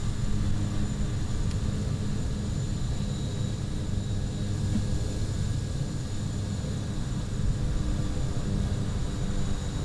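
A Kodiak aircraft taxiing to parking in Microsoft Flight Simulator 2020 video game, its engine a steady, loud drone with a faint high whine running unbroken throughout.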